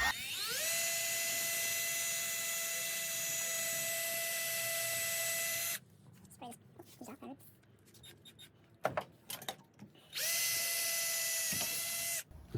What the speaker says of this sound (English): Now we're just gonna keep drilling until I can get something close